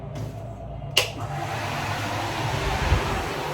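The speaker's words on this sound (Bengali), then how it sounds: "এই ফ্যানটা এত আওয়াজ না, মনে হয় যেন বৃষ্টি হচ্ছে।" Noisy electric fan switched on in a home, a steady loud whooshing hum that starts with a click and runs unbroken, resembling the rush of rain.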